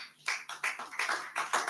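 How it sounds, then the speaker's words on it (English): Scattered audience applause for a speaker at a talk on economic relevance, a run of quick separate claps heard at a fair distance and moderately quiet, with no voices over it. "Let's clap for her."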